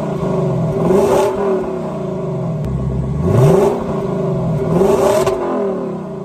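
A 2021 Lexus LC500 convertible engine revs up in three strong swells, each rising and falling pitch with a throaty roar between steadier idling, heard alone and close.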